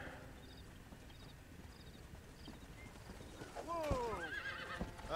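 A horse in the Western video game Red Dead Redemption lets out a loud, wavering whinny near the end, after a quieter stretch of hoof clip-clop and soft game ambience.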